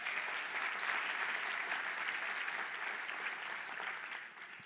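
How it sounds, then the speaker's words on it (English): An audience at a CEO summit panel gives a dense, sustained round of applause that sounds somewhat distant and fades slightly over a few seconds. "Give him a round of applause again."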